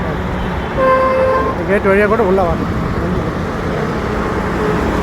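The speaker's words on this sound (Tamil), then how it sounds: "இது வந்து நேஷனல் ஹைவே NH ரோடுங்க. Heavy traffic road." Busy national highway traffic near Sriperumbudur, Kanchipuram, with a steady roar of passing vehicles and a couple of car horns sounding early on, while someone talks over the noise.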